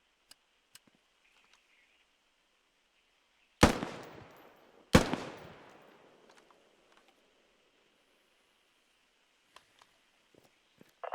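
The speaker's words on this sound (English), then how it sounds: "Automatic riflemen and machine gunners carry a machine gun like this to the field." Squad, a military video game: two sharp, loud gunshots about a second apart ring out against a quiet background, each trailing off in a decaying echo, with only faint clicks around them.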